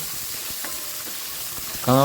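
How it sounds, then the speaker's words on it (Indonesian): Jengkol (dogfruit) fries in hot cooking oil with a continuous close sizzle and crackle, with soft stirring taps and a louder hiss near the end. "Nah, kalau udah panas dimasak dulu goreng jengkolnya terlebih dahulu sampai dia matang"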